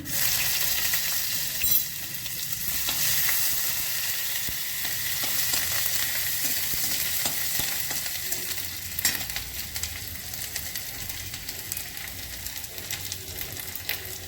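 Black cumin and grated ginger sizzling loudly in hot oil in a home kitchen, a steady close crackling hiss throughout with no voices.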